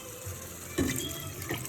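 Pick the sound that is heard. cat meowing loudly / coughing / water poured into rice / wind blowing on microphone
water poured into rice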